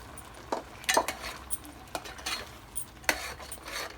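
Stirring in a pot of mutton curry as masala paste is added, with scattered clinks and scrapes of a spoon against metal, a few sharper knocks, close and moderate, with no voices.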